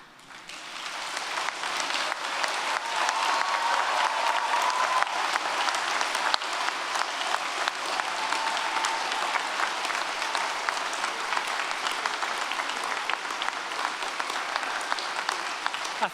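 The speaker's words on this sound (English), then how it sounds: "should stand up and with a warm round of applause and some cheering, join me in thanking your family and friends" A graduation ceremony audience at a university's School of Film, Media and Communications bursts into sustained applause with some cheering, a dense, loud crowd clapping that swells in the first second and holds steady throughout.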